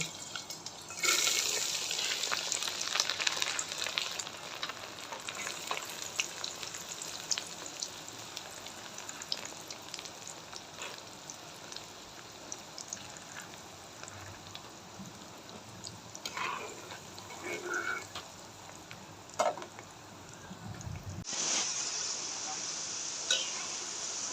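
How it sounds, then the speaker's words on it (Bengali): Chickpea lentils frying in a pan for homemade chanachur, giving a steady soft sizzle and crackle with occasional scrapes and clinks, fairly faint and close, ending in a brief clatter. "এভাবে আমি সবগুলা ডাল ভাইজা নিব"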